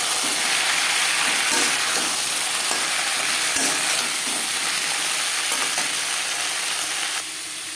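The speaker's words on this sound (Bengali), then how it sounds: "দু চামচ রিফাইন্ড অয়েল গরম করে নিয়েছি ফোরনে দিয়ে দিলাম একটা তেজপাতা গোটা জিরে" Bay leaf and whole cumin seeds sizzle and crackle steadily in hot refined oil, a close, continuous frying hiss with small pops throughout and no talking.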